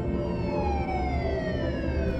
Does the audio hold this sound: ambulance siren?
yes